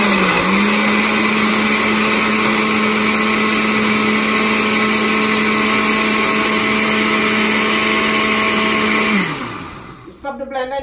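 A blender runs continuously at high speed, loud and steady while mixing peanut punch with white sugar, then winds down abruptly near the end, followed by a brief clatter.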